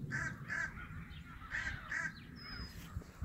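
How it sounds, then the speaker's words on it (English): Several crows caw in repeated pairs of harsh calls, moderately near outdoors, with a steady low background rumble and a brief thin whistle-like tone near the end; no talking. "the crows know they're outnumbered right now"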